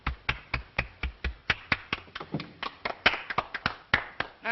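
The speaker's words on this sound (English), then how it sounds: "Applause." A small group of people claps steadily at close range in a quiet room, each sharp, distinct clap audible in a brisk, slightly uneven rhythm that swells briefly before stopping.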